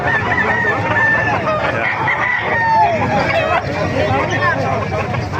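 A rooster crows amid a busy gamefowl market in Calumpit, Bulacan, its call rising over constant crowd babble and other fowl clucking nearby.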